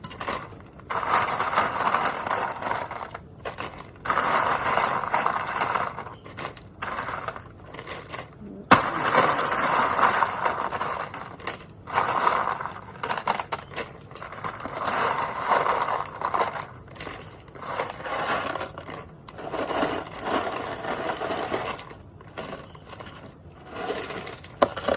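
Ice cubes are piled on top of an ice cream mixture inside a plastic bag, making repeated crunchy rattling and clattering bursts close by. A voice talks intermittently alongside.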